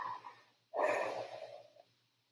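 A person yawns in a classroom lecture, a single long, loud breathy exhale that swells suddenly and trails off over about a second, preceded by softer breathing against a low steady hum.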